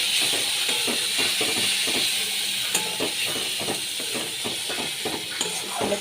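Ground cumin, turmeric, chana masala and chili powder sizzle in a pan for a fish curry, a steady hiss with faint rhythmic clinks of stirring throughout.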